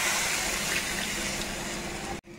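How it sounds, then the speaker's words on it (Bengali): Rinse water poured from a mixer grinder jar into a pan of olive chutney, a continuous close splashing pour that cuts off abruptly at the end. "এবার এই মিক্সি জারের বাটিটা ধুয়ে জল দিয়ে দিলাম।"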